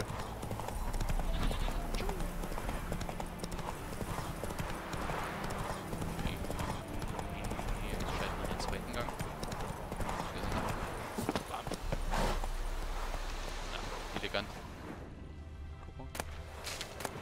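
A horse gallops in The Witcher 3, rapid rhythmic hoofbeats running close and loud through most of the stretch, with occasional whinnies, ambient game sounds and some talk, fading toward the end.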